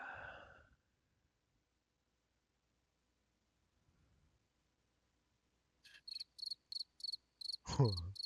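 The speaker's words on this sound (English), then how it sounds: "Crickets." Crickets chirp in a quick run of evenly spaced, bright pulses after a long stretch of near silence, ending with a short swooping tone.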